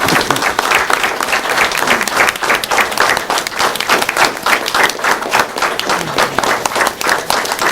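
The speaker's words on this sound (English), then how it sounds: "if you would please give these 4 young men a nice round of applause" A council meeting audience gives four young men a loud, sustained round of applause, with dense rapid clapping from many hands filling the room throughout.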